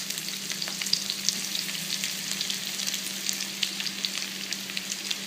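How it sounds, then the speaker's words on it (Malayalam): Sliced onions frying in ghee with raisins, a steady close sizzle with faint crackling pops and occasional stirring, no voices. "ഇതിലേക്ക് നമുക്ക് ഫ്രൈ ചെയ്യാൻ വെച്ചിട്ടുള്ള സവോള ഇട്ട് കൊടുക്കാം"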